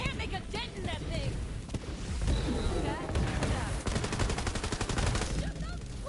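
Rapid gunfire and bursts from a Borderlands 3 firefight, with dense automatic shots and impacts sounding almost continuously and loud. Game voices talk over the shooting.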